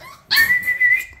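American bully puppies scuffling, with a sharp high whimper or yelp from one puppy rising suddenly and wavering for most of a second, close and loud, then trailing off.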